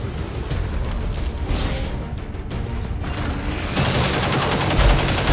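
Gunfire from the tactical strategy game XCOM 2, rattling bursts of shots with mechanical clatter layered densely and loudly throughout, no talking.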